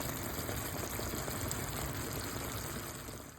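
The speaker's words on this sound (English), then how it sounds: "Ooh, they bubbling, they sticky, they glossy." Candied yams simmer in a butter and spice glaze, giving a steady, close, dense bubbling hiss that holds evenly throughout and fades slightly at the end, with no voices.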